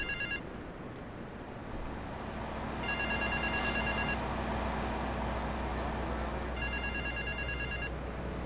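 Telephone ringing in GTA 3, three separate electronic ring bursts about three seconds apart over steady low game ambience and engine rumble, no talking.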